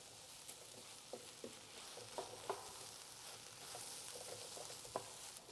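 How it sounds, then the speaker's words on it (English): Tomato paste being stirred into vegetables in a hot pan for braised brisket, giving a steady quiet sizzle with scattered soft scrapes and taps from the stirring. "we're just going to kind of stir that in here and cook that with the vegetables for a couple more minutes"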